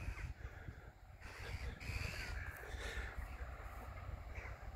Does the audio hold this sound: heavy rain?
no